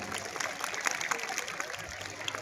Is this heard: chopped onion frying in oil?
no